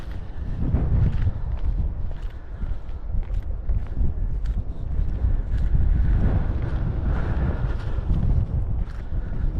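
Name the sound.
wind blowing on microphone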